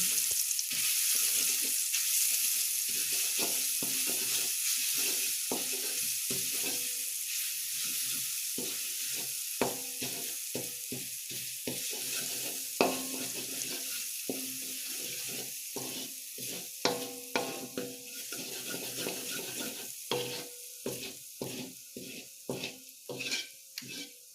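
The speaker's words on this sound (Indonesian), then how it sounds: "kita tumis bawang dan kemiri yang telah dihaluskan. Kita tumis hingga harum" Ground shallots and candlenut sauté in a pan, a steady sizzle with repeated sharp scrapes and stirring clatter throughout, fairly close, no talking.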